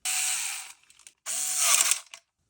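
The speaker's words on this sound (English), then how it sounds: "Then we're going to use the remaining 4 screws to screw on the 2 sling mounts." A power screwdriver drives small M3 screws to fasten two sling mounts onto a stock. Two short, close, high-pitched whirring bursts are separated by a brief pause.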